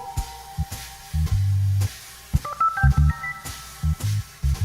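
An organ played live with a piano-like voicing: short punchy bass stabs and held low chords alternate with a brief run of higher notes, in a loose, bouncing rhythm.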